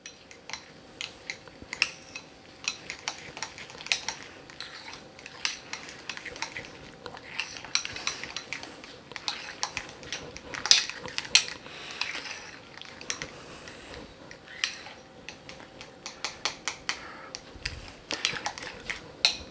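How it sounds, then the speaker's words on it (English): A spoon stirs deviled egg filling in a bowl, soft scraping and light clinks against the dish repeating irregularly at a quiet, close level. "So I'm just going to give this a little stir."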